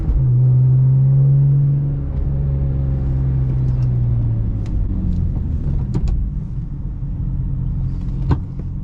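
A BMW E46 M3 drives through city streets with a steady, loud engine rumble. Its tone rises and falls gently as the car moves through traffic, and a few faint clicks sit over the drone. No one speaks.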